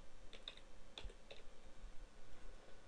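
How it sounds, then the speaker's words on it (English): Keys clatter on a computer keyboard as someone types a new workgroup name into a Windows Vista settings box, a few quick faint clicks in short bursts over a quiet room. "highlight the box and type in your new workgroup"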